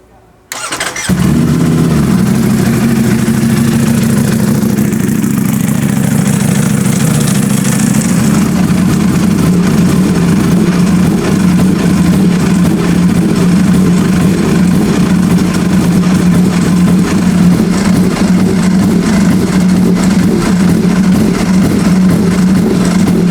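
Ducati SP2 motorcycle engine starting on a hot afternoon, then idling loudly and steadily at low revs close by with gentle blips of the throttle, no talk over it.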